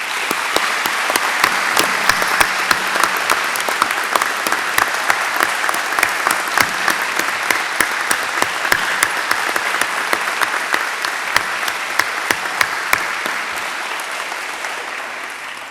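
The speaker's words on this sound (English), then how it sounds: "Let's give them a great big round of applause." Sustained applause from a crowd at a police department promotion ceremony, dense steady clapping lasting throughout with sharp individual claps standing out, tapering slightly at the end.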